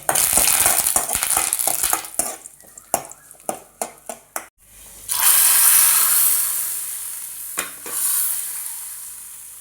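Shallots and curry leaves fry in hot oil for a sambar tempering, a loud, close sizzle with stirring clinks that breaks off, then a burst of hissing spatter swells and fades out.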